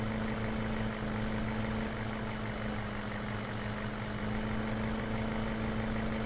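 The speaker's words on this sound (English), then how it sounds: "You guys can hear that turbo pretty good." A Ford F350 truck with a turbo engine in Farming Simulator 2015 drones steadily, a constant low engine hum with a faint whine, even and unchanging throughout with no talking.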